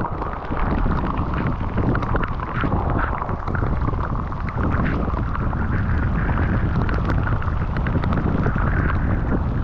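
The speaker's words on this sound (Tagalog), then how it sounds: "Ang lakas ng hangin talaga. Ang lakas ng ulan." Steady roar of strong wind buffeting the microphone on a shoreline, with dense rain noise beneath, loud and continuous throughout with no voices.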